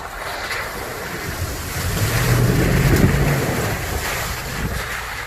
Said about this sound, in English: Oh, here comes the Tundra. Gaining some speed.